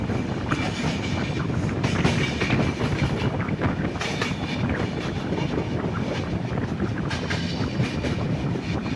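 Inside a sleeper class coach of the KSR Bengaluru Express, the moving train produces a constant loud rumble with rhythmic clickety-clack from the wheels over the rails, plus some wind noise.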